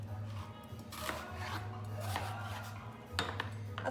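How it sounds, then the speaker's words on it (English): A knife chops an onion on a board in a quiet kitchen, producing uneven soft knocks and scrapes over a low steady hum. "So I'm going to cut just a little bit of this onion up."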